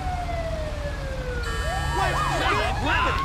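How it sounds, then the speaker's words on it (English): Ambulance siren in Grand Theft Auto V, as part of a Texas DPS police scene, continuous wailing and yelping tones over a low engine rumble, with other siren sweeps overlapping as more emergency vehicles arrive nearby. "Who else is coming? Oh, that's the ambulance."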